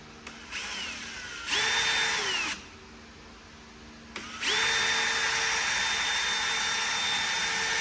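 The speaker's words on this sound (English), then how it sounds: "Set up the drill with a zip tie." A power drill spinning a scuff pad to clean an LS cylinder head whirs up to a loud whine in short bursts, then spins continuously with a high steady tone and a gritty scrubbing texture underneath.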